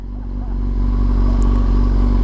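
Motorcycle engine in the HyperBiker video game, a loud, steady low-pitched roar that builds slightly and holds throughout.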